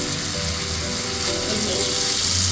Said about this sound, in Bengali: মাছটাকে দিয়ে আমি এটাকে ভালো করে নেড়ে চেড়ে কষিয়ে নেব